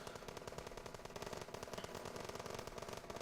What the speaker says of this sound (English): as soon as they enter, they start getting shot